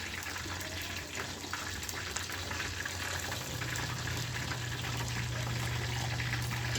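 A small amount of water poured into a hot frying pan, giving a steady continuous splashing and sizzling wash that builds slightly louder midway, close and with no talking.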